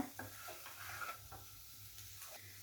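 Potato masala stirred in a pan with chaat masala, a spoon scraping in repeated short strokes over a soft, steady background sizzle, close and fairly quiet, with no talking.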